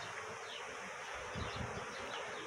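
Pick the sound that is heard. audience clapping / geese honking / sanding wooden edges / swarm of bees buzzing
swarm of bees buzzing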